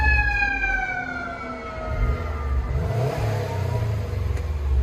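A Subaru WRX STI 2.5L engine on stock exhaust idles and then revs up with a rising roar from the exhaust, close and loud, about 88 decibels, with the pitch climbing and holding steady.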